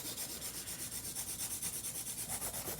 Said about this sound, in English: Now we're just gonna do some drilling and then top coat.